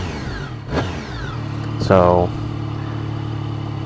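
A Triumph motorcycle with its stock exhaust idles with a low, steady rumble, giving two quick revs that rise and fall sharply; a voice speaks briefly at the start.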